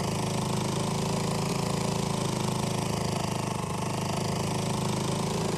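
A Honda 2.2 horsepower outboard motor drives an inflatable boat, running as a steady, close, buzzing drone that never breaks or changes pitch.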